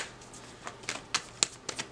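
Tarot cards are shuffled and drawn for a full moon in Scorpio reading: a handful of soft, quick card flicks and slides, close and quiet, spaced irregularly through a short moment.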